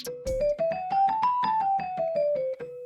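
A synth plays a quick stepwise melody in B Phrygian, with plucked, bright notes rising and then falling in an even rhythm, loud and alone.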